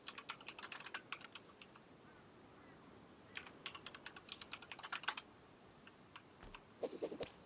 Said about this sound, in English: I'm going to type B grade.